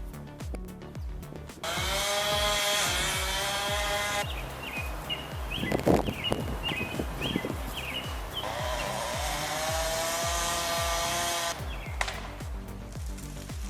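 A chainsaw cuts into a tree, its engine revving hard in long, loud, sustained bursts that dip and rise again, with cracking and crunching wood mixed in.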